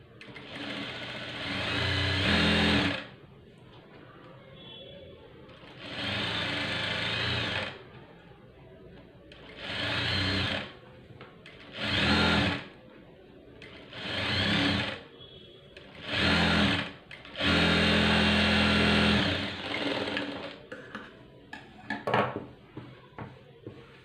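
A sewing machine stitches piping onto a saree in repeated loud whirring bursts of a few seconds each, separated by brief quiet pauses.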